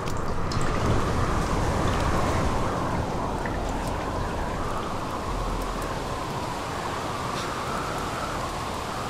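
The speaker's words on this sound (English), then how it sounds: "It's raining now." Steady rain falls in The Solus Project video game, a dense continuous hiss of drops on surfaces that stays loud and even throughout with no voices over it.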